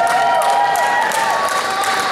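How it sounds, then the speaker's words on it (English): Steady crowd applause fills a gym after a Special Olympics Indiana state basketball championship game, a dense, continuous clapping wash heard alone without talk. "Please give another big round of applause to both teams"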